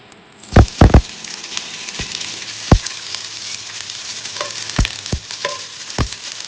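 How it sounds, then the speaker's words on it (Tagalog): Spring onion frying in oil in a pan, a steady close sizzle with a few sharp crackles and pops breaking through, no voices. "Then, ika-fry ko lang ng spring onion"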